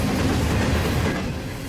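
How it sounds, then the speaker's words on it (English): A BNSF intermodal stack train rolls through Fullerton on the middle track, a loud, dense rumble and rattle of wheels and cars passing close by without pause. "One of the all-too-common BNSF intermodal stack trains makes its way through Fullerton on the middle track"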